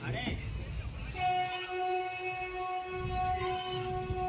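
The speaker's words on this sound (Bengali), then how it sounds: "এক্স্যাক্ট তিনটেতে আমাদের ট্রেন ছাড়লো যে মোকামা ছেড়ে ট্রেন বেরোচ্ছে" A train pulls out of Mokama station in Bihar: a long, loud horn blast with several harmonic tones sounds twice over low rumbling rail noise, with faint voices in the background.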